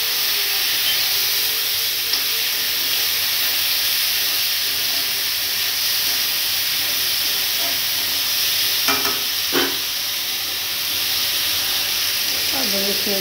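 Boiled macaroni and peas cooking in a pan with tomato give a steady, fairly loud sizzle and steamy hiss, with a few brief scraping stir clicks near the end and no talking.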